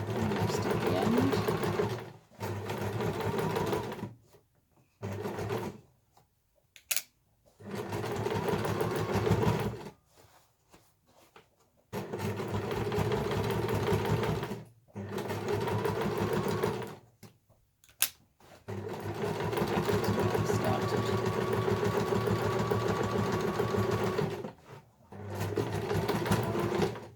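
A sewing machine stitches an eco shopper bag, running in repeated bursts of steady mechanical whirring separated by short pauses, with a couple of sharp clicks, close and clear.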